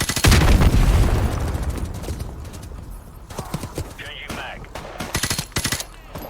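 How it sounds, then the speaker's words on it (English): Gunfire cracking through wooden crates in Call of Duty Modern Warfare Remastered: a heavy blast at the start, then scattered sharp shots and short bursts over rumbling battle noise, with impacts clustering near the end. "Shooting through some of the wooden crates now."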